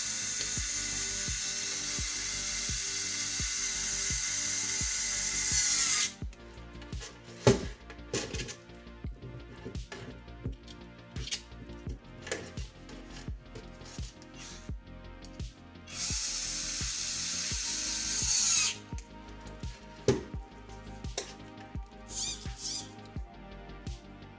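Power drill driving 30mm screws into a hexapod robot frame: two sustained whirring bursts of a few seconds each, close and fairly loud, separated by clicks and clatter of parts being handled.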